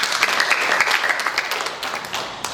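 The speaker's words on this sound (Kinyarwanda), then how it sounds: "Dukomere Imana amashyi menshi" Applause at a graduation ceremony for a tailoring training school, a dense, loud crowd of clapping hands sustained throughout and close by.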